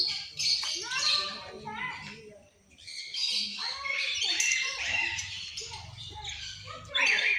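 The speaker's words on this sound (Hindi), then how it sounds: "ये वाली चिड़िया है जो घूम रही है यहाँ पे" Colourful birds at Rohtak zoo chirp and squawk in busy, overlapping bursts, fairly close, with people talking nearby.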